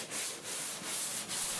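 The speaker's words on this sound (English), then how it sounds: "I finish with a short sanding with the 8 grit paper" A wooden boat hull being hand sanded with coarse 8 grit paper, steady rhythmic rasping strokes repeating about every 0.4 seconds, close and fairly loud with no talk.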